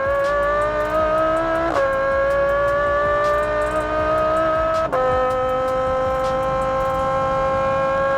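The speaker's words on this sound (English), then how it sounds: "I also just found a video of an STO with this system being driven on a track." A Ferrari-style STO supercar lapping a track with a high-revving engine wailing loudly and continuously, pitch climbing through the gears with two sharp shift breaks, heard close and alone.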